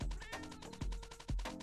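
Cats meowing in a dreamlike video game, several short mewing calls repeating over soft background music, fairly close and clear.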